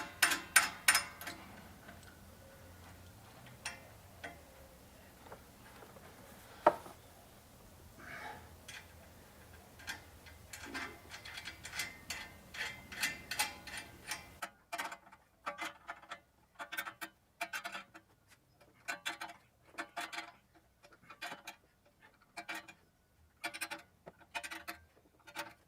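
A ratchet wrench with a deep socket turning a fastener, with quick clicking bursts that come in short, evenly repeated runs, near and fairly quiet, with no talking.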